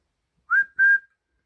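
Two short, clear whistled notes from a person, the first rising and the second held steady, in otherwise quiet surroundings.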